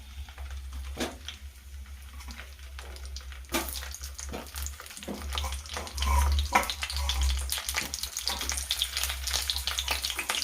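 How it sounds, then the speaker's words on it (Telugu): Whole brinjals are placed one by one into hot oil in a pan for a masala curry, giving a soft crackling sizzle with scattered pops and clatter that grows busier midway, with no talking. "ఆయిల్ కొంచెం వేడైన తర్వాత ఈ వంకాయలు ఉన్నాయి కదండి, ఒక్కొక్కటిగా ఇలా పెట్టేసుకోండి."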